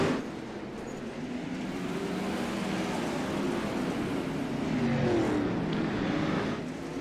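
Open-wheel race cars at speed during green-flag racing in the Hoosier Open Wheel Series at Fairbury, a continuous loud roar of several engines with rising and falling pitch as cars pass, no talking.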